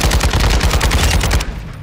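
Loud close automatic gunfire in a video game, a rapid sustained burst of rounds that cuts off abruptly near the end.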